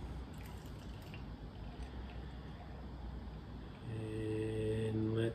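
Feral Brewing Biggie Juice, a hazy New England IPA, poured into a glass: a steady liquid rush and fizz that swells louder toward the end, with a rising tonal fill note as the glass nears full.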